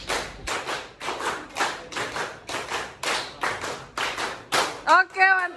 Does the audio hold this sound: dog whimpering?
no